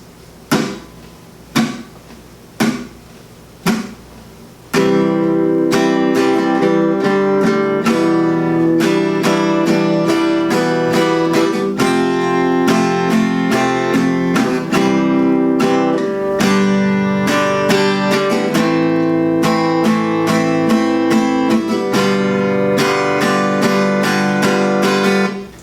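Acoustic guitar plays the bridge of a song: a few soft muted strums, then loud, steady, continuous chord strumming, close and alone.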